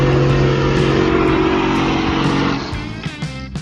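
A ZIL 4906, a Soviet amphibious off-road vehicle, runs its engine with a loud, humming drone that eases into a rougher, quieter running after a few seconds.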